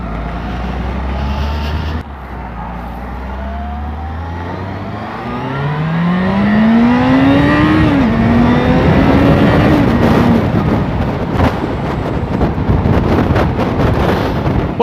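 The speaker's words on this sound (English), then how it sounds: "driving like a fanny because I don't know where I'm going." A car engine while driving, climbing in pitch as it accelerates through the gears over steady road and wind noise, loud and close inside the car.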